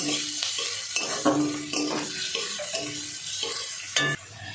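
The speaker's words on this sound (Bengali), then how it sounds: "হাই ফ্লেমে রেখেই ভাজতে হবে। ঘন ঘন নাড়তে হবে, যাতে একটা সাইড পুড়ে না যায়।" Onions fry in hot oil over a high gas flame and are stirred often. A continuous loud sizzle runs throughout, broken by several sharp scrapes and knocks of a spatula against the pan.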